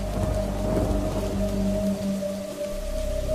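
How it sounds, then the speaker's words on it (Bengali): Heavy rain pours down suddenly during a Baishakh nor'wester storm, a dense steady wash of noise with a low rumble and a faint steady tone running through it. "হঠাৎ ঝমঝম করে বৃষ্টি শুরু হলো।"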